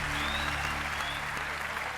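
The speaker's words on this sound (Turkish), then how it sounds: "Alkışlarla uğurluyoruz Ecem'i" Studio audience applauding a departing contestant on O Ses Türkiye, a Turkish TV singing competition; steady, dense clapping fills the whole stretch with a low musical hum running underneath.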